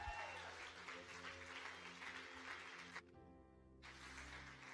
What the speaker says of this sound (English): Let's clap to Jesus now.